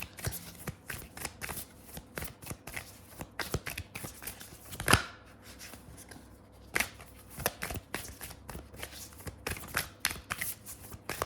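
Tarot cards are shuffled by hand close to the microphone in quick, repeated riffling bursts and soft slaps, fairly quiet with short pauses between runs and no speech.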